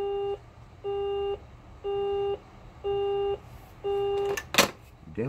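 Five evenly spaced electronic beeps sound on a telephone line after the receiver is hung up, followed by a short clatter at the end.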